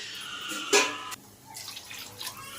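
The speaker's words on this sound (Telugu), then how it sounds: "ఇప్పుడు ఇందులో వాటర్ వేసుకోవాలి" Water pours briefly into a pot of rice with a short splash, followed by faint trickling and dripping.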